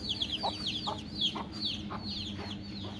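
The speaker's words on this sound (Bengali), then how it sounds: "মুরগি বাচ্চা নিয়ে ঘুরছে বাচ্চা পাহারা দিচ্ছে" A native hen clucks steadily while her chicks cheep constantly in high, rapid peeps, all close by against a low outdoor hum in a village.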